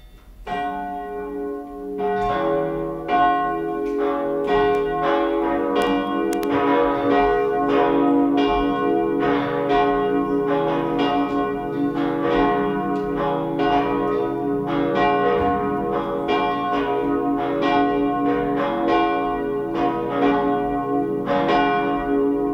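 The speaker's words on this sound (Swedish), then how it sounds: "Så får vi lyssna på klockringningen." Cathedral church bells ring continuously for over twenty seconds after a Sunday high mass, several overlapping peals forming a dense, steady wash of tolling with no voices.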